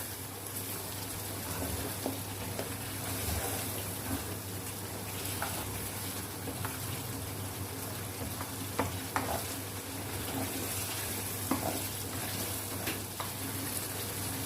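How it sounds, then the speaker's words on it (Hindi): Mutton pieces fry and sizzle steadily in hot oil in a karahi, a continuous loud crackle with occasional scrapes of stirring throughout, no voices. "हम इसको इतना भूनेंगे कि इसका जो ऑयल है वो अलग हो जाए।"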